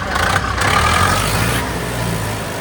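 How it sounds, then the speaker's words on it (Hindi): Tractor engine running steadily with a cultivator attached on a farm field, a continuous low diesel rumble at moderate level, heard alone without talk. "अब ये चल रहा है ट्रैक्टर"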